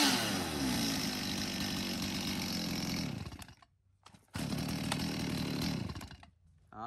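A Stihl 40cc chainsaw with a 40 mm cylinder runs loudly at a steady, buzzing idle-to-rev drone, cuts out briefly, then restarts and runs again before dropping off.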